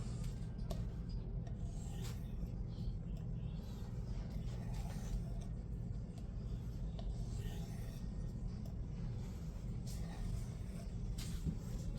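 A knife is sharpened freehand on a coarse 100-micron stone, giving a steady, continuous scraping rasp in close repeated strokes that runs through the whole stretch without talk.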